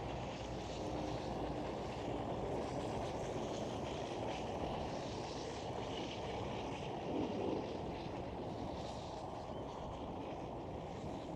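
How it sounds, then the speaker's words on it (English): A KLM Boeing 737 passing at Amsterdam Schiphol airport, a faint, steady jet rumble with broadband wind-like noise, distant and unchanging throughout. "There goes KLM 737."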